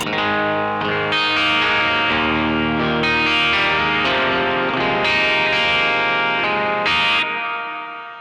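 Electric guitar running through a Caline reverb pedal set with pre-delay, chords and single notes ringing in a steady, loud stream with a lingering spacious tail that fades at the end; no talking.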